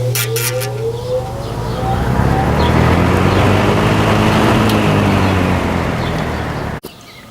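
A Lakewood S23 electric fan, its motor not yet oiled, starts with a click and a quick rise, then runs as a loud steady whirring hum with a faint rhythmic beat before cutting off near the end.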